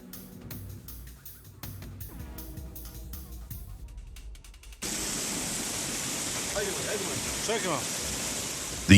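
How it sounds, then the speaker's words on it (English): Heavy rain and rushing floodwater by the Danube riverside, a loud steady hiss and roar that abruptly takes over midway after a quieter stretch with faint clicking and tonal sounds. "rain and floods are threatening the riverside area"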